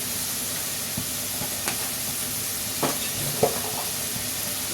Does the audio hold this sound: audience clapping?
no